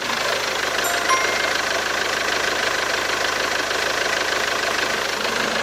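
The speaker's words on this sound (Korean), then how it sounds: "나가서 엔진 소리 한번 들어보시죠" A SsangYong Rexton W SUV's diesel engine idles steadily, a loud, even rumble with a regular mechanical knock, close by and without voices.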